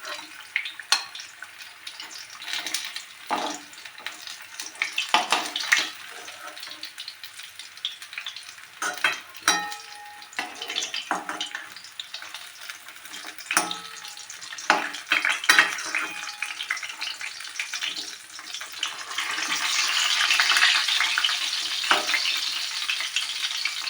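Pieces of katla fish fry in hot oil in a home kitchen, giving a steady sizzle broken by irregular clinks and scrapes of stirring, and a brief splash of running water near the end.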